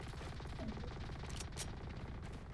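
Sustained rapid automatic gunfire sprays continuously in a shooter video game, a dense unbroken rattle of shots with a few brighter bursts, heard faintly without talk.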